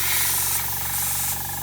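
A steady, hissing paint spray gun runs continuously at close range spraying candy red paint over a gold undercoat on a figure, with a faint mechanical hum beneath it.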